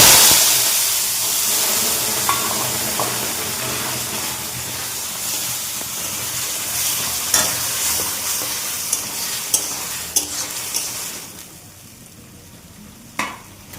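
Taro greens (kochu shak) hitting a hot pan with a loud hissing sizzle that slowly fades, scattered small pops and stirring clicks, close and without speech.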